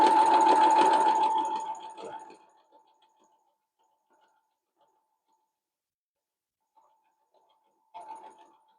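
A sewing machine stitches quilt fabric for a pinwheel quilt in a fast, close, whirring run for about two seconds, then stops. After several near-silent seconds, a second short burst of stitching follows.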